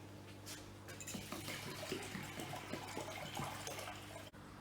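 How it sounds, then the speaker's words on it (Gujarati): Water poured into a pot holding one cup of mung beans (green gram) set to boil for a home-cooked meal, a steady close splashing and trickling stream lasting several seconds before stopping abruptly. "એમાં પાણી નાખું છું।"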